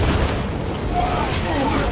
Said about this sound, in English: Right grenade launched!